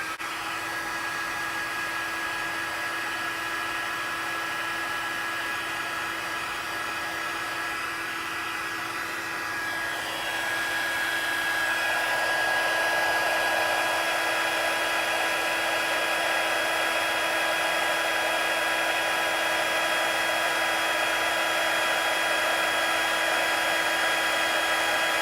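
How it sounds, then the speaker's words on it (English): A heat embossing tool runs with a steady, loud blowing whir like a hair dryer, holding a constant tone throughout and growing slightly louder and fuller partway through as it heats up, with no talking. "I'm going to heat up the tool and speed up the video"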